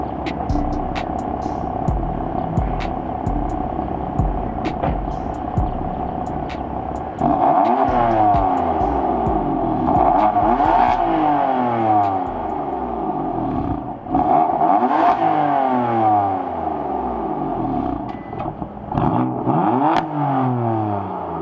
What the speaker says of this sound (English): Let's get some revs of the car.